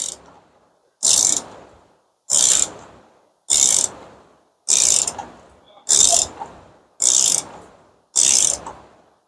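A ratchet on the oil drain plug of a Toyota Highlander clicks in eight quick, evenly spaced bursts separated by short silences, heard up close and loud, each a rapid run of sharp pawl clicks.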